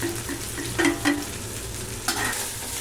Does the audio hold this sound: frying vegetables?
yes